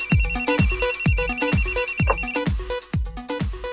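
A telephone rings repeatedly in a steady electronic ringtone pattern, loud and close, with no voices over it.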